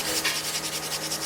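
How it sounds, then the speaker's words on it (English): Barnacle shells are scraped and sanded off a boat hull in quick, rhythmic rubbing strokes, close and fairly soft, heard alone over a faint steady hum. "my dad and I got to scraping and sanding the thousands of barnacle shells off of the hull"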